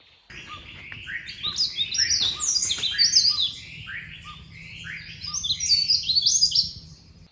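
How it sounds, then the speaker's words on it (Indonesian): Birds sing in a forest, with repeated high, bright chirps and trills rising and falling in overlapping phrases, fairly near and clear over a faint background hum. "Terus dengerin suara burung."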